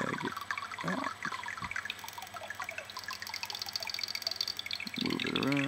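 Water droplets dripping and plinking in an iPhone app game, a run of bright, quick drops scattered over several seconds at moderate level with a steady backdrop beneath.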